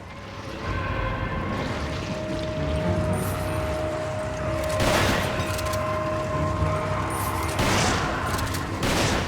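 Shotgun blasts in Resident Evil 5, with dense game noise throughout and two heavy broadband bursts standing out around the middle and near the end.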